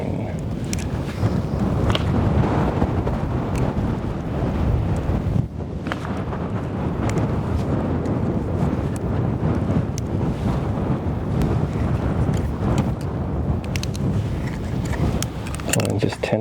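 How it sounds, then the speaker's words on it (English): Strong gusts of wind batter the microphone outdoors at a shooting session, a dense continuous rumble and buffeting that lasts the whole stretch. A voice talks faintly underneath it. "the wind has really picked up."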